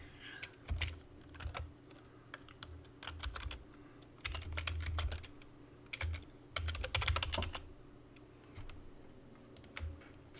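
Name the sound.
typing on a computer keyboard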